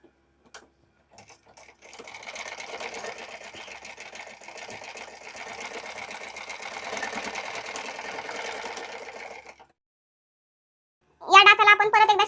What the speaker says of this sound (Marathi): या टोकापर्यंत आपल्याला शिलाई देऊन घ्यायची आहे